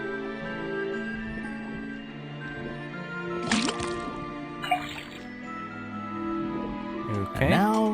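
Liquid pours from a tapped faucet into a cauldron during a swamp detective game's potion puzzle, a brief splashing trickle over steady background music, with short watery bursts near the middle and end.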